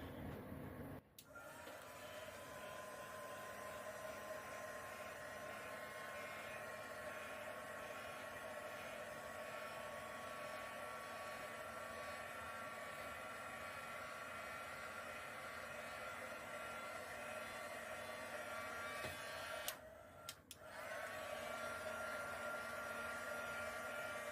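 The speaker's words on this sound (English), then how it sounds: "because there's silicone in here, I'm going to hit this with a heat gun" A heat gun blows over acrylic pour paint mixed with silicone, a steady, close, even airflow whoosh and motor hum running almost the whole time, cutting out briefly twice.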